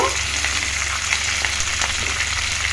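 Crushed garlic cloves fry in hot oil with a steady, dense sizzle and crackle, close and fairly loud, continuing evenly throughout without any voices.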